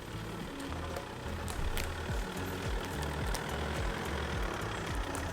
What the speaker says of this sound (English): The guys are taking the tractor around the other side.